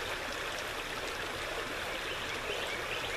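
A creek flows steadily in a constant broadband rush, close and continuous, with no distinct wheelbarrow sounds standing out above the water.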